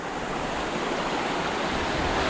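River water at Canding Falls in Tarlac rushing steadily, a loud, dense, constant wash of flowing water close by with no voices.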